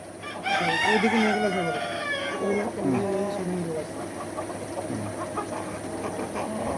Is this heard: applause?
no